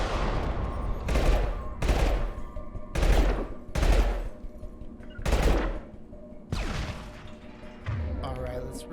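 Gunfire in Mass Effect 2, with bursts of heavy automatic shots and loud thudding blasts arriving in uneven clusters over a continuous combat soundscape.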